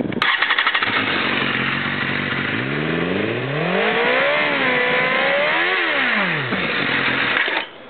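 A 2010 BMW S1000RR superbike engine starts up and revs, climbing and falling twice in loud, close sweeps before cutting off, with no voices.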